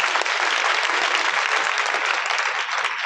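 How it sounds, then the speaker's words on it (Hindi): A church congregation applauding, with dense, continuous clapping held at an even level for a few seconds and no talk over it. "जोर से ताली।"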